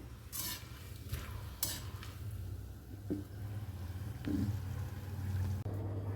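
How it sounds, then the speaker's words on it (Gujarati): Mathiya, a crisp Gujarati snack, fry in a pan of oil with a steady low sizzle and bubbling, broken by a few sharp stirring and scraping clicks from a utensil, close and alone with no talk. "અત્યારે મઠિયા તળવાનો પ્રોગ્રામ ચાલી રહ્યો છે આપણો"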